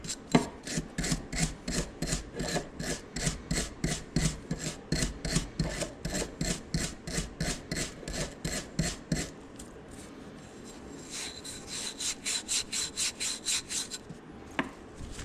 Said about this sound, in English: Maybe a wire brush.